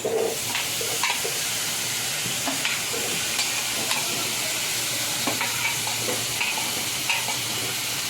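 Steady sizzling of vegetables frying in hot oil, with occasional stirring scrapes and clinks over the constant hiss.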